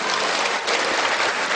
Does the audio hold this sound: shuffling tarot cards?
no